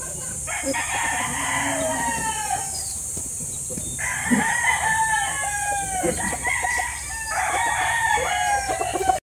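Raptor Sweater gamefowl roosters at a game farm crow repeatedly, several birds overlapping with loud nearby calls and clucks, over constant background noise.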